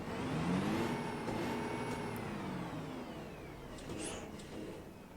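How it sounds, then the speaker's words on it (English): A heavy city bus engine in the OMSI 2 bus simulator game drones steadily with a slowly shifting pitch, and a faint short whine and metallic clicks appear near the end as the brakes pressurize. "Oh, now I can hear the motor."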